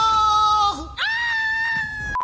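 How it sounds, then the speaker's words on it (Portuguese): A man screams in horror film footage, one long, loud, wavering cry that breaks off briefly and then surges back at a higher pitch, with no talking around it. "a mãe dele recebeu um e-mail esquisito mostrando filmagens da câmera que ele tava usando, onde a mulher consegue ouvir o filho gritando"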